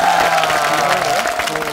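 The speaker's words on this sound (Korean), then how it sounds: "여러분들 큰 박수로 하시기 바랍니다." Studio audience applause on a Korean TV variety talk show, a dense, steady wash of clapping that stays loud and close across the whole short stretch.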